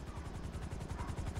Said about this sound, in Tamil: இப்போ ஹெலிகாப்டர் வருது